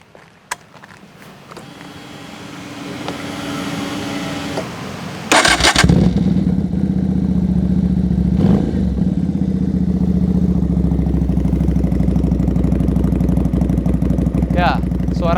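A modified V16 motorcycle built in Indian style with a stainless steel exhaust starts up and settles into a steady, loud, low idle, close by, after a quieter stretch.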